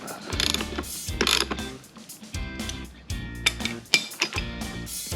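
A ratchet works an 18mm seat belt bolt on a C5 Corvette seat, with repeated bursts of close metallic clicking and rattling separated by brief pauses.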